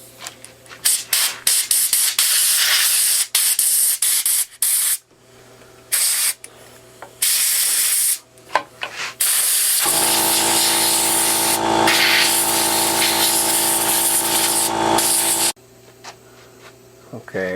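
Compressed air blasting gunk out of the carburetor of a Craftsman 5 hp 2400-watt generator, loud hissing bursts in quick stutters and then a long sustained blast, with a mechanical hum under the later part.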